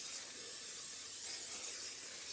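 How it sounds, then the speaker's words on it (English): Non-stick cooking spray hisses from a can onto the inner sections of a pan, a soft, continuous airy spray lasting a couple of seconds at low volume. "I'm just gonna spray non-stick cooking spray on the inner sections of this pan"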